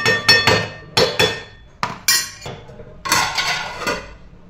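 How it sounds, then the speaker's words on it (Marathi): A metal lid set down over a pan of vegetables simmering in a little water, a run of sharp clanks and rattles as it settles, with pots knocking nearby. "आता यावर झाकण ठेवूया आणि भाजी कधी शिजवून घ्या."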